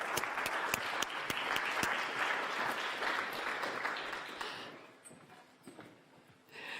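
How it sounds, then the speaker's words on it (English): An audience applauds at a panel event on transatlantic relations, a dense wash of clapping with a few sharp individual claps, fading out after about four seconds to near quiet with scattered last claps. "A round of applause, please."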